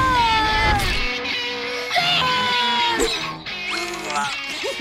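Cartoon characters voicing meows and caterwauls as cats, several playful drawn-out cat imitations in turn, close and clear, with light music underneath.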